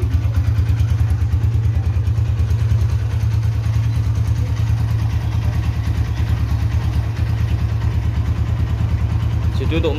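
A Honda CB150R motorcycle engine idles close by with a loud, steady rapid thrumming pulse, holding an even rhythm throughout while someone talks over it.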